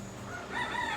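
Roosters at a homestead hen house crow in a drawn-out call with a harmonic contour through the second half, fairly distant and moderate in level over steady outdoor background.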